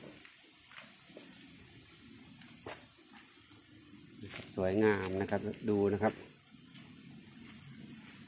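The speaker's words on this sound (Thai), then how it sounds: "อันนี้คือ ลักษณะนะครับสายน้ำนะครับ" A steady wash of stream water flowing over rocks runs throughout, with someone speaking briefly in the middle over it.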